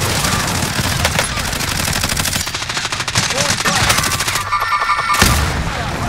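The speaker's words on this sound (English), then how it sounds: "how is this guy shooting?" Rapid video-game gunfire in sustained automatic bursts, close and loud, with a dense clattering texture throughout and a brief dip near the end before firing resumes; players talk over it.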